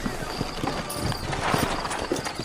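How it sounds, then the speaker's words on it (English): Horses' hooves clip-clop in the video game Red Dead Redemption, a steady rhythm of close hoofbeats mixed with creaking tack and mechanical clatter. "You ain't gonna find sturdier horses than these in all of New Ulster."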